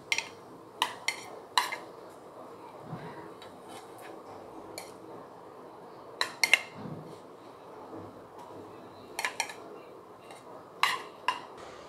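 Metal utensil clinking and scraping against a paniyaram pan as cooked paniyaram are lifted out, scattered sharp taps and clicks over a low background hum.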